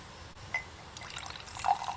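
Green-tinted water is poured into soap in a glass jar: a quiet, soft trickle and splash that swells toward the end, with a faint clink of glass.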